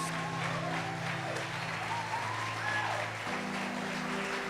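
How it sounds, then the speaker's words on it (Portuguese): A church congregation applauds during a worship service, a steady wash of clapping at moderate distance with a faint sustained tone and a murmur beneath it. "Então dá uma salva de palmas para Jesus."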